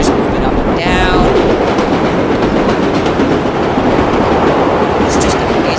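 A New York Flushing Line 7 subway train in World of Subways 4 rumbles steadily and loudly through a tunnel, a continuous roar of wheels and car noise with faint squeals, no talking.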